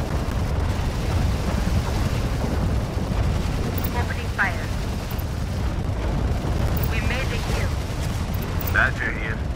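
Battlefield gunfire and explosions rumble continuously in the EndWar strategy video game, a dense roar of distant blasts and shots with occasional sharper bursts and faint radio-style voices.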